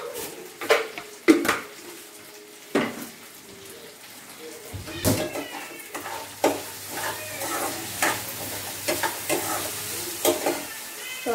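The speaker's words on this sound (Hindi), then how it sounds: "फिर मैं आलू के साथ ही इसको भून लेती हूँ" Potatoes and peanuts frying in a home kitchen pan, stirred with a metal utensil that makes repeated scraping and clinking knocks over a steady sizzle.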